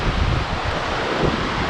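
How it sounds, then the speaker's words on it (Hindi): Strong stormy wind roars steadily across the microphone near a river bridge on the road between Rishikesh and Devprayag, a loud continuous rushing buffet with no voices. "बहुत ज़्यादा तूफानी हवा चलने लगी है."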